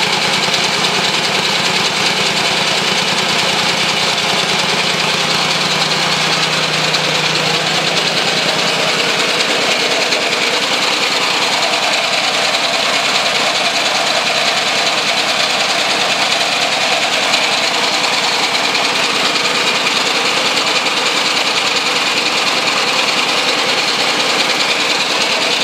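A homemade three-cylinder engine runs steadily throughout, a loud, continuous buzzing drone with a fast, even firing rhythm close to the microphone, a lower hum fading after the first few seconds.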